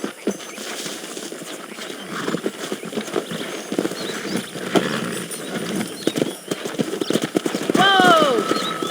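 Wild horses' hooves clip-clop at a steady gallop amid Red Dead Redemption game ambience, with a horse whinnying near the end.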